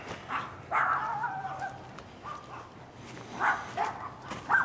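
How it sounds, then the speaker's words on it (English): A neighbor's dogs barking outdoors in a spring yard, faint distant yips and barks coming in scattered bursts, with birds faintly in the background. "My neighbor dogs are barking, so I'm going to have to terminate this."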